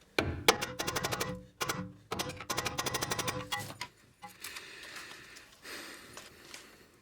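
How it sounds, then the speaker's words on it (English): Rapid bursts of metallic hammering strike a pry bar at the lower control arm of a 2013-2019 Nissan Sentra, rhythmic clanks in two runs close by, then quieter shop noise and scraping. "I'm going to try to pry and hammer on the lower control arm a bit."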